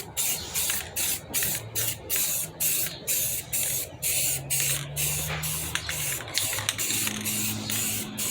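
Spray can painting a car wheel rim, a rhythmic series of close hissing bursts about every half second, steady and evenly spaced, with faint background hum.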